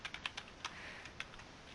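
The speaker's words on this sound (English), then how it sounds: "Blake, are you typing the whole thing over?" Typing on a computer keyboard, a quick irregular run of clicky keystrokes close by with short pauses between bursts, alone without talk.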